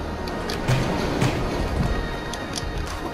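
A train rumbles along the track in a video game, a steady rolling clatter with faint rhythmic clicks, heard alone without talk.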